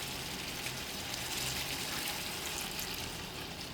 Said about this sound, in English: Now I'm going to actually add in more water.